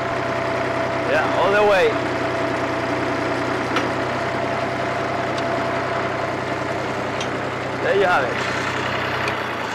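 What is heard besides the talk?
tractor PTO-driven auger digging in clay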